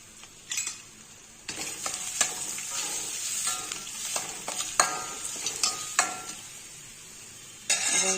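Curry leaves and green chillies, seeds removed, sauté in a hot pan for cabbage rice with a steady sizzle. A utensil scrapes and stirs in sharp, irregular clinks, and nobody speaks.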